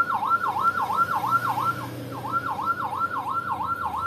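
Wailing ambulance siren from a CJB 200w siren module on a red capsule LED lightbar, a loud, close, rapidly repeating up-and-down yelp that cycles steadily with a brief break midway.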